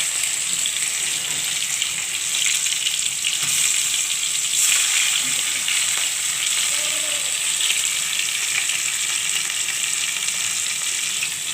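Five pieces of fish frying in hot oil in a pan, a close, loud and continuous sizzling hiss with small crackles and faint shifting as the pieces are nudged aside.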